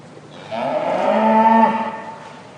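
A Hereford cow lets out a single loud, drawn-out moo at a beef cattle show ring, close and clear for over a second above a quiet background.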